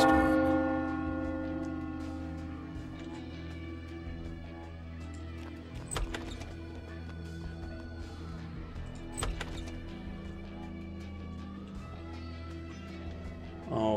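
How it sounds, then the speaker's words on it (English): Church bell in the video game Hard West tolls twice against a steady droning musical backdrop, with brief metallic strikes standing out around the middle of the stretch. "The bell rang."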